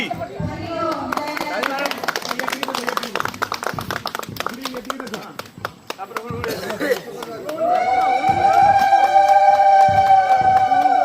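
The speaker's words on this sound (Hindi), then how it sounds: "ताली ताली ताली" A group of people claps in quick, uneven bursts amid chatter and voices. A sustained sung or tonal voice rises over the end.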